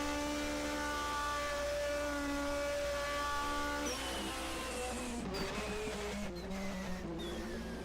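Race car at the Salzburgring in a 1980 DRM Division 2 race, a steady whining engine tone that drops in pitch around the midpoint as it downshifts, then rough revving with a blip near the end.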